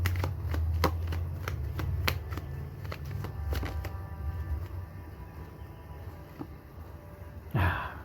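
Tarot cards shuffled by hand during a reading, a run of quick crisp riffling snaps and flutters close up for several seconds, thinning to softer shuffling, with a brief louder rustle near the end.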